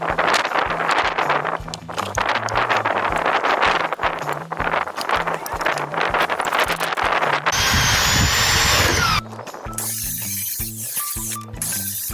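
Shutter ply being cut into strips with a power tool, a steady loud mechanical whirr with rhythmic ratcheting pulses throughout, shifting to a higher whine near the end.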